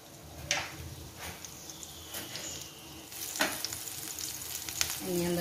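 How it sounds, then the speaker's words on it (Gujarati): Onions frying in oil in a pan on a gas stove, a steady soft sizzle running throughout with a few sharper crackles and clinks of a utensil stirring. "એની અંદર આપણે 1 પાવડું તેલ નાખી દઈશું. હવે આપણે એમાં ડુંગળી નાખી દઈએ."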